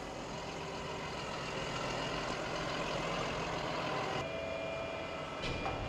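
A brand-new T7 tractor runs steadily at close range on a farm during silage work, its engine a constant low drone with no breaks while a trailer is hitched up.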